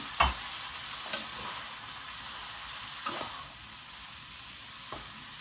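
Food cooking in a pan on a low flame, a quiet, steady sizzle with a few distinct spatula knocks as it is stirred now and then, close by and with no talking.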